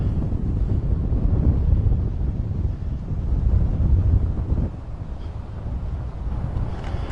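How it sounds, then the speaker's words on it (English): Strong wind buffets the microphone on a golf course, a loud, steady low roar with gusts that swell and ease, dropping somewhat toward the end, with no talking. "The wind's blowing hard."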